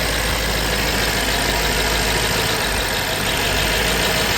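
A crashed BMW 550i's engine runs at a loud, steady idle with a dense, even mechanical rumble that holds throughout, with no speech over it.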